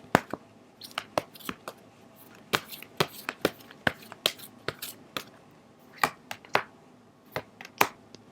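Tarot cards being shuffled and drawn for an advice reading, heard as a series of crisp, close card snaps and riffles in irregular bursts, with quiet stretches between the sharp flicks and no talk over them.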